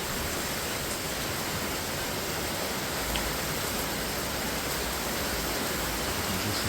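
Heavy tropical rain pours down in a dense, steady broadband hiss, loud and close, with no break and no voices.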